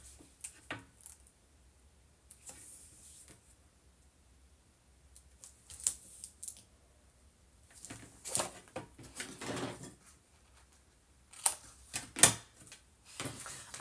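3/8 inch tape being applied by hand to a paper panel for a mini album, with scattered soft taps, crinkles and peeling sounds in short irregular bursts between quiet pauses.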